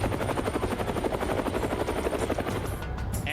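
A Chinese Z-8 military helicopter thunders nearby, its rotor blades chopping in a fast, steady rhythm that stays loud throughout, with no talk.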